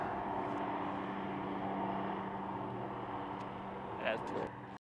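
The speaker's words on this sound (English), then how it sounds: "That's a cool helicopter. Check that out. Hughes 500." A Hughes 500 helicopter flies overhead, giving a steady, fairly faint droning hum of rotor and engine that holds evenly before cutting off abruptly.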